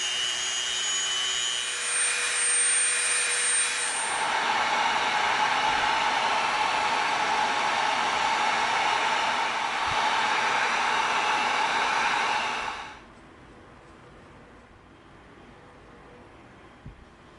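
A bandsaw cuts through EVA foam in a workshop, a steady loud whirring drone with a rising whine that holds for about twelve seconds, then cuts off abruptly, leaving a faint room hum.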